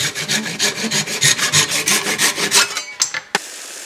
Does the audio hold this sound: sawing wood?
yes